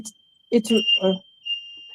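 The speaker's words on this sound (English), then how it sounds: "the alarm has to come on at that time." A smoke alarm goes off indoors, a steady high electronic tone that sustains under a person talking nearby, continuing faintly after the voice stops.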